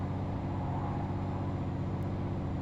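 A car engine in Euro Truck Simulator 2 holds steady at high revs, a loud, unbroken drone that neither rises nor falls, with no voice over it.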